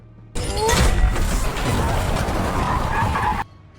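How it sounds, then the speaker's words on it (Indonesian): A film sound effect of a car skidding and crashing: tyres screech loudly, then a heavy crunching impact follows. The burst lasts about three seconds and cuts off abruptly into near silence. "Ledakan kecil dari tabung itu membuat mobil Gang Je terbalik dan hancur."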